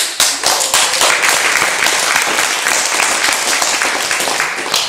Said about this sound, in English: the reason we're applauding Alan